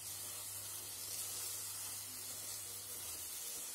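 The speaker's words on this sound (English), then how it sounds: "Let's saute this. The 3 tablespoons of coconut that I added need to be sauteed." Grated coconut sizzles steadily in a hot pan as it is sautéed, a dense, even hiss with a low hum underneath and no talking.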